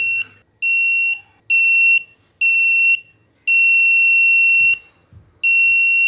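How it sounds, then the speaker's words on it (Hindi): A homemade low-cost magnetic-switch alarm whose buzzer sounds when a magnet is brought near the switch: loud, steady high-pitched electronic beeps in six long bursts of uneven length with short gaps, close by, no talking. "मैग्नेटिक स्विच के करीब जब भी आप किसी मैग्नेट को लेके आएंगे तो इसका बज़र चलना स्टार्ट कर देगा"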